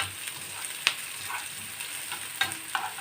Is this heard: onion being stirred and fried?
yes